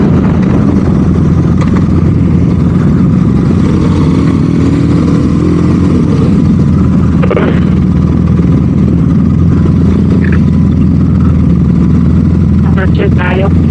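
Several motorcycles, including a BMW R nineT, idle together at the start of a group ride, a steady low rumble with occasional small revs, with people talking over the engines throughout.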